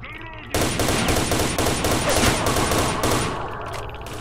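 Dense, sustained automatic gunfire from the video game S.T.A.L.K.E.R.: Shadow of Chernobyl bursts in after a brief quiet moment and rattles on loudly with rapid overlapping shots, easing slightly toward the end.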